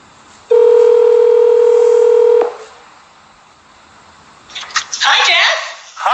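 An Apple Watch places a cellular call, giving a loud, steady dial tone for about two seconds that then cuts off, followed by a short pause and a brief stretch of speech.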